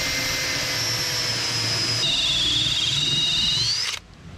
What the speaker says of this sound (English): I'll just cut around it with a little hole saw without a pilot drill.